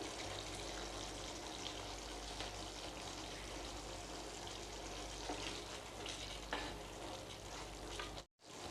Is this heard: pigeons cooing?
no